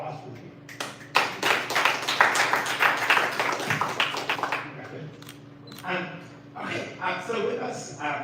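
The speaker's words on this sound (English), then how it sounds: "Let's a round of applause for you." Audience applause at a tech founders' fireside chat, a burst of clapping from a modest crowd lasting a few seconds, then fading into quieter room sound with people talking.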